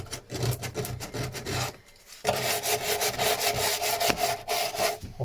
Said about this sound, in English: No trouble sanding.